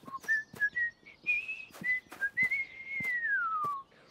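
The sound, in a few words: whistling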